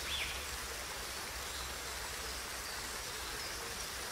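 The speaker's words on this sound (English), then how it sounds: "Listen to the sound of the trickling water" A gentle brook trickles in nature, heard as a faint, steady, even wash of flowing water that runs unbroken throughout, with no voices.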